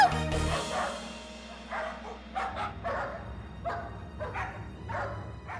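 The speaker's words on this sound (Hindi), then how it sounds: "गली के कुत्तों की फौज अब तुम्हें पूरी गली दौड़ाएगी" Cartoon pack of street dogs barking and yipping in a lane, a burst of repeated barks of moderate loudness over a background bed, with no talk.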